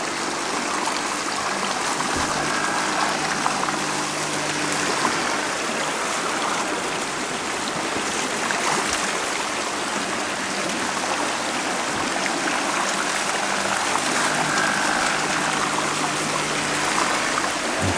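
Water trickles and splashes from a turning bamboo water wheel at Sanjiang, China, a steady, close, continuous rush with no distinct creaks standing out.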